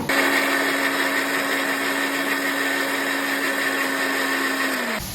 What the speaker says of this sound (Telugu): జీలకర్ర, ఎండుమిర్చి, వెల్లుల్లి మిక్సీ పట్టుకుందాము.